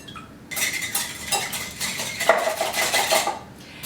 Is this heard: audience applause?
no